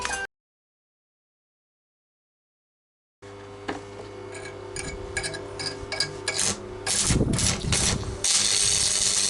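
A ratchet wrench tightening a bolt on a welded support bracket for a heat exchanger, giving a steady scraping, clicking rasp that starts after a silent gap and runs continuously, close and moderately loud.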